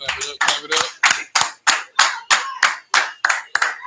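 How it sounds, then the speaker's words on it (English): A group claps hands in a steady, even rhythm, about eleven sharp claps over four seconds, close and loud, at an Israelite School of Universal Practical Knowledge class in Houston. "Clap it up."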